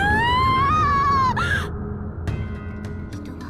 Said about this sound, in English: a scream forced its way out from inside my body, from the very pit of my stomach